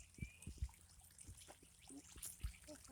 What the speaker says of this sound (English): They have the waterfall going all the way down and into here.